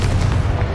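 A Confringo fire blast spell explodes in Hogwarts Legacy, a short, dense, low-heavy boom that stays loud and close for its full brief length.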